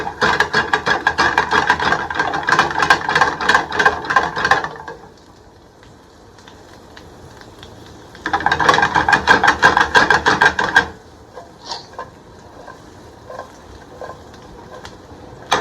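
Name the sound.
asparagus sizzling and being tossed in a pan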